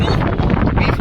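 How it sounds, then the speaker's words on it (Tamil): Strong wind blows over the Namakkal hilltop fort, a loud, close gusting roar buffeting the microphone for about a second. "காற்று பலமாக இருக்குது"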